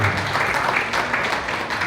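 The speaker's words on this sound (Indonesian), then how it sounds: "Tepuk tangan untuk kami." An audience at a gathering of hajj and umrah pilgrims claps in a short, moderately loud burst of applause that stays fairly even for about two seconds, with no speech over it.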